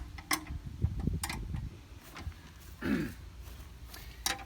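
Bolts on an Atlas AT-250 clay trap cart are locked back down, making faint scattered metallic ticks and clicks with a short grinding creak midway, heard up close in a quiet outdoor setting.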